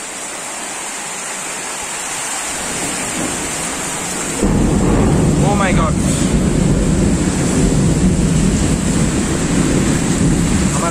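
Strong storm wind roars as a loud, continuous broadband rush that grows even heavier partway through, gusting steadily close to the microphone while a voice briefly exclaims.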